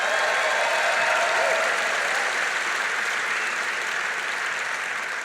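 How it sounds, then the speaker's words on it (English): Sustained applause from a large audience at a manufacturing event, loud and dense clapping that tapers slightly toward the end. "another round of applause for Ray Curry"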